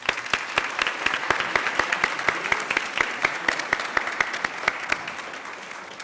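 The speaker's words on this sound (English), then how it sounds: "All right, have a round of applause." City employees at a City Hall unveiling ceremony are applauded by a moderate crowd, with individual claps standing out sharply over a steady patter, fairly distant and without talk.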